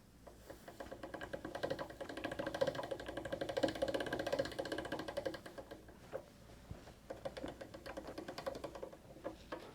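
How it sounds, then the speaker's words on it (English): Fresh pasta dough feeds through a hand-cranked pasta machine cutting fettuccine noodles, giving a close, fairly quiet clattering and whirring with a rapid ticking texture that runs steadily before easing off. "I'm going to run it through our machine and cut it into our fettuccine noodles."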